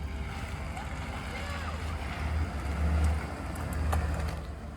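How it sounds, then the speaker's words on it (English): A work truck pulls up outside a house, its low engine rumble building and swelling twice over steady wind noise, with voices talking nearby. "There's her work truck."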